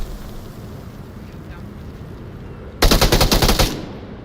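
Gunfire from the VR shooter Onward: after a stretch of quiet ambient game noise, a loud, rapid automatic burst of about a dozen shots rings out for nearly a second, then fades.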